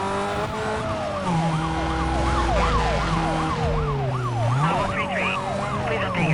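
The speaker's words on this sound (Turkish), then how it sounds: "Bu polis arabası mı gitti ya?" Wailing police siren in the racing game Need for Speed Most Wanted, loud and continuous with rapid up-down yelps over the rumble of a car engine, with no voices.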